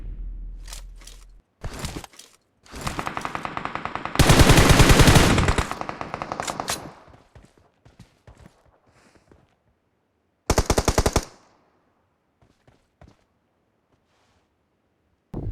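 Automatic gunfire from a battle royale video game comes in loud, rapid bursts, a short burst, a longer sustained volley and a final brief burst, separated by near-silent gaps with a few faint clicks.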